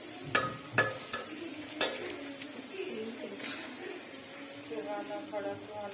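Curry leaves stirred and frying in a pan for biryani: a few sharp clinks of a spoon against the pot early on, then a soft, quiet sizzle and scraping.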